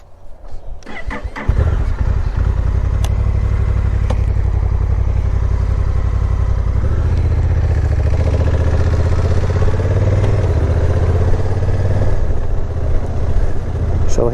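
A motorcycle engine cranks and catches, then settles into a steady, loud, close idle with a deep throbbing low rumble that shifts slightly in pitch.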